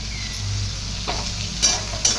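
Tomatoes frying with sautéed onion for egg bhurji, a steady close sizzle broken by a few scraping stirs of the spatula in the pan.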